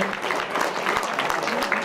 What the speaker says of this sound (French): Merci d'applaudir la sortie du numéro 8, Joris Belgacem.